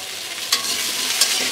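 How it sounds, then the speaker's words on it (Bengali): Pumpkin, sweet potato and potato fry with turmeric and salt in a pan, giving a bright, close sizzle with two quick stirring scrapes. "দিয়ে আমি সবজিগুলো ভালো করে ভেজে নেব।"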